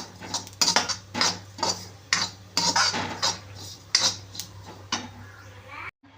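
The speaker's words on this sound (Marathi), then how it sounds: "हे जिरे पण आपण भाजून घेत आहोत" Cumin seeds being roasted in a pan for goda masala, heard as repeated scraping and clinking of a metal spoon against the pan in steady strokes, close by, with a low hum underneath.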